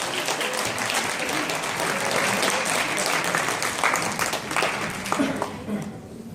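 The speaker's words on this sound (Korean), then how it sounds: "큰 박수로 맞아주시면 감사할 것 같습니다." An audience at a business presentation and awards ceremony applauds to welcome a speaker, with sustained dense clapping that fades toward the end.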